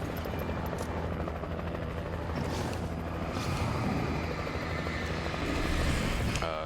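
Helicopter in a video game passing loudly overhead, a steady rotor roar filling the clip amid game noise, with no one speaking.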